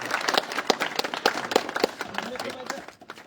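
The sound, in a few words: audience applause welcoming a guest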